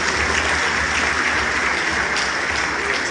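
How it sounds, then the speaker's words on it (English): Dense, steady applause from a large crowd, continuous and even throughout without pauses. "Please, another round of applause for him."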